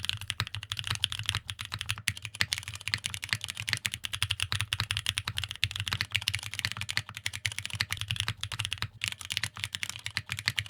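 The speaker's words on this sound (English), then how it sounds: "Let's take a listen to the stock switch compared to some Butter Browns" Rapid, steady typing on a mechanical keyboard with stock KNC Keys Black Jacket switches, with continuous crisp clacks close up and no voices.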